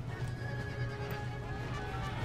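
Light cavalry horses charge in a Napoleon: Total War battle, a steady dense rumble of hooves with horse whinnies rising over the low din, loud and continuous with no talking.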